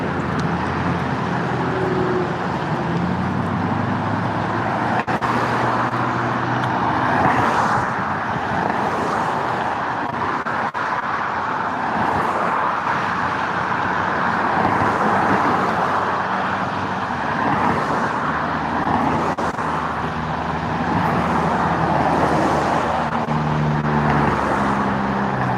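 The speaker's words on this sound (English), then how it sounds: "There goes another one of them little lowrider pickup trucks" Steady broadband roar of road traffic as a low-slung lowrider pickup truck passes by, a continuous loud wash of tire and engine noise with no talk.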